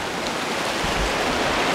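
The Baptism River on the Superior Hiking Trail rushes in a steady, broad, fairly loud wash of flowing water, with no voices over it.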